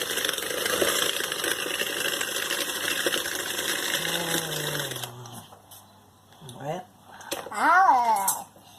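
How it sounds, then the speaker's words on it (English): Butter and sugar being mixed for a cherry almond cake give a steady, dense whirring churn for about five seconds, then it stops and voices talk over faint kitchen clatter. "So mixing the butter and then the sugar."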